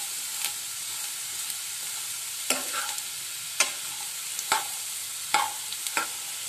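Spices fry in hot oil for an aloo kurma, a steady high sizzle running throughout, broken by several sharp scraping stirs of the spoon against the pan.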